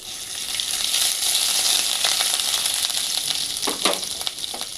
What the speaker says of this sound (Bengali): এবার আমি দিয়ে দিচ্ছি আদা বাটা